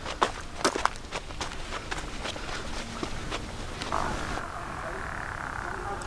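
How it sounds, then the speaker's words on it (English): An unidentified frog or toad croaks near a lake along a state park hiking trail, a series of short rapid clicking croaks at moderate distance, mixed with rustling footsteps on the trail. "that noise you're hearing is some type of frog or toad"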